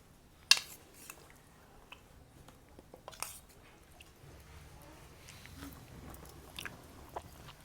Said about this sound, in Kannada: ಊಟ ಮಾಡಿ ಟೇಸ್ಟ್ ನೋಡಿ ಹೇಳ್ತೀನಿ ಹೆಂಗಿದೆ ಅಂತ